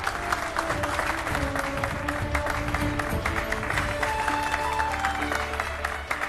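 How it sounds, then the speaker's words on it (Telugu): A group of students in a classroom breaks into steady, sustained applause, dense clapping from many hands filling the room continuously, with a faint murmur of the crowd mixed in. "మీరందరూ చప్పట్లు కొట్టాలి. కొట్టండి చప్పట్లు."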